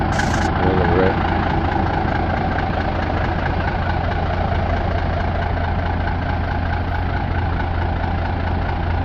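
1987 Autocar truck with a PT240 diesel engine idling very low, a steady deep rumbling throb that continues throughout at close range, with no talking.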